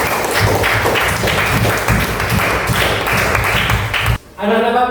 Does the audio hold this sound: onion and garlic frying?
no